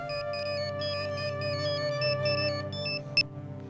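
A phone rings with a repeating electronic melodic ringtone, steady and moderately clear, playing alone without any voices for a few seconds.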